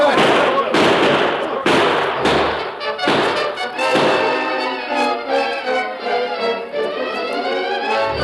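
Gunfire from a posse in an old radio drama: a rapid string of loud shots and thumps that gives way to ringing, tonal sound effects, all close and dense.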